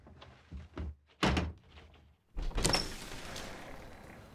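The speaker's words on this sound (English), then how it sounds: "Push the door, the lock's fucked." A door with a broken lock gets shoved open, a few soft knocks and a heavy thunk followed by a louder scraping swing and rattle, with no talking.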